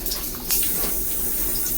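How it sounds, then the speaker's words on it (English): Water streams steadily from a hotel-style spa shower head under weak household pressure, a constant close hiss with a brief louder surge partway through and no speech. "I'm going to turn the water on here so you can see"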